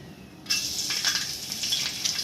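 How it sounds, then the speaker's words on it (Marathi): Garlic hits hot oil in a kadhai on a gas stove and sets off a sudden, close, steady sizzle that keeps crackling after the initial burst. "तर तेलामध्ये मी लसूण टाकणार आहे."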